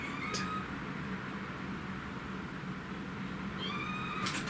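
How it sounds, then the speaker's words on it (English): A kitten meowing outside a door, two short high cries separated by a few seconds of steady background hum, fairly faint and somewhat distant. "Kitten right outside the door."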